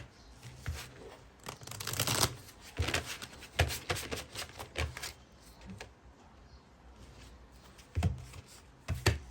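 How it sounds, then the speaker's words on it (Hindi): Tarot cards drawn and handled from a second deck during a reading, with repeated close papery shuffles and flicks in bursts, fairly loud with quieter gaps between them and no talking. "चलिए दूसरे डेक से भी हम कार्ड्स निकालेंगे।"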